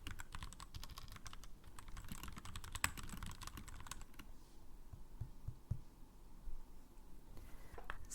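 Mechanical keyboard typing in a quiet ASMR setting, with a steady stream of close, soft clicking keystrokes that continues for several seconds with brief pauses and no voice.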